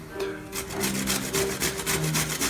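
Beets and carrots being grated together for borscht, a steady rhythmic rasping with repeated strokes close by, no talking.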